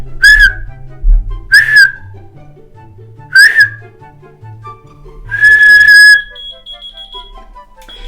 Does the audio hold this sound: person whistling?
yes